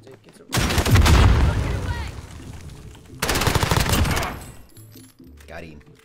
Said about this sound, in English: Gonna shoot bullets, we're gonna shoot a rocket